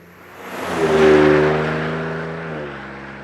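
A car engine revs up from a low idle into a throaty rise, peaking briefly then settling back to a steady hum, close and alone without talk.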